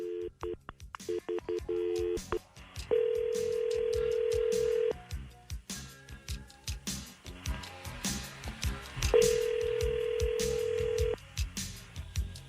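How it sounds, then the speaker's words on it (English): Telephone call placed live on air: a rapid run of touch-tone dialing beeps, then two long steady ringback tones separated by a pause, loud and close, with faint background noise beneath. "Let's call him up"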